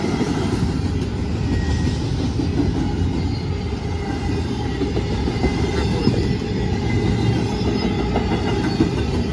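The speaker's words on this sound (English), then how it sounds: "very, very long train." A long Norfolk Southern intermodal freight train rolls past steadily, with rumbling wheels and rhythmic clickety-clack of rail cars, continuous and fairly close, no talking.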